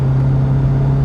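A car accelerating hard to pull away from a hybrid, with a steady low engine drone that holds constant and loud throughout the short burst.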